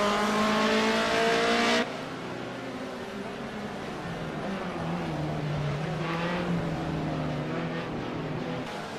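A BMW 2002 StanceWorks Edition race car in Project CARS at Donington GP roars loudly at first. It then drops to a lower, strained engine drone that rises and falls through the corners.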